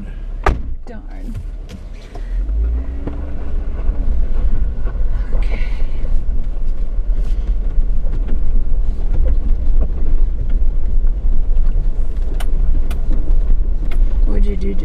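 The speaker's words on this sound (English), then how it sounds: "I just went into first gear" A car engine rumbles steadily from inside the cabin while the driver shifts into first gear, with a few clunks and knocks and people talking over the drive.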